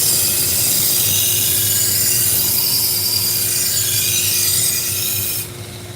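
Steady rasping strokes of a nicked knife blade being sharpened fill the clip loudly and continuously, a gritty scraping hiss that drops off abruptly just before the end.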